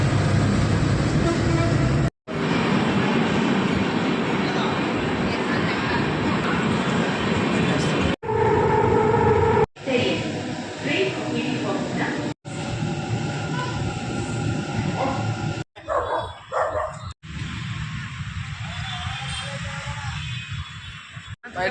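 A train runs along the rails with a loud, continuous rumble and clatter, broken by several abrupt cuts, and faint voices come through in places.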